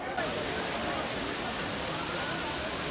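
Water of the Trevi Fountain in Rome pours and splashes in a steady, dense rush, loud and continuous throughout like a waterfall, with no distinct voices standing out.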